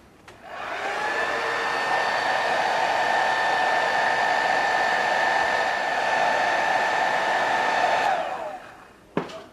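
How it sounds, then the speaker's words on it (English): A hair dryer dries paint on a diorama building, switching on with a rising whine, holding a loud steady airy roar for about seven seconds, then winding down, with a click at the end and no talking. "we'll hairdry that off to see how it looks when it's dry."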